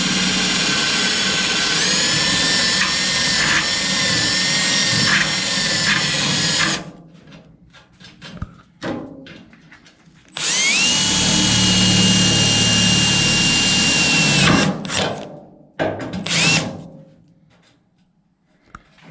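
A power drill whines loudly at high speed in two long bursts, drilling out spot welds on a 1952 Studebaker 2R5 truck cab, with short quieter gaps and brief clanks between.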